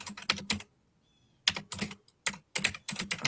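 Fast bursts of typing on a computer keyboard, close and fairly loud, with short pauses between clusters of rapid key clicks.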